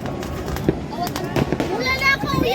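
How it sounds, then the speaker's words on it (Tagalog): New Year fireworks in the Philippines crackle and pop in quick bursts at middle distance, mixed with excited voices talking nearby. "Yan, fireworks na yan."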